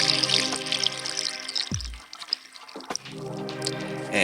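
Tap water runs and pours over dried Taiwanese vegan soy slices in a kitchen, a close, steady splashing flow that pauses briefly before resuming.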